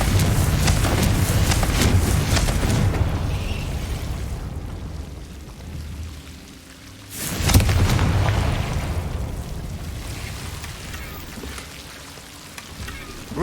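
A Confringo explosion spell cast in Hogwarts Legacy lets out a sudden loud, broad blast midway, set against a steady rumbling, rain-like wash of noise that fills the rest of the scene.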